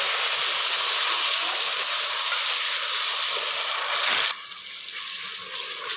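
Water poured into a hot pan of frying onions and chopped tomatoes for a masoor dal sets off a loud, continuous sizzling hiss, which drops abruptly to a quieter bubbling simmer near the end.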